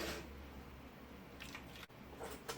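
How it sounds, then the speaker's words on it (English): Water poured into paint in a plastic ice cube tray, making a few short, soft wet squishes and splashes close up, with no talking. "And then you add some water."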